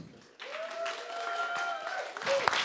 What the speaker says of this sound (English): A round of applause for Miles Traer.